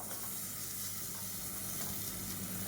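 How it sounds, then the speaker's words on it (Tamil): Vegetables and cauliflower frying in oil for biryani, a continuous close sizzle and crackle with faint stirring, steady and loud with no talking. "இப்போ எண்ணெயில் வந்து நல்லா வறுத்துட்டோம்னா டேஸ்ட்டாக இருக்கும்."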